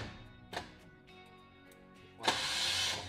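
A Chevy starter cranks an old, previously seized motor, giving a couple of short bursts before a longer, louder grinding crank near the end.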